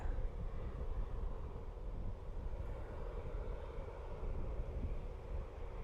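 A jet airliner departs Dublin Airport bound for Izmir, a steady broadband engine roar with low rumble and some wind buffeting, fairly constant and moderately distant throughout.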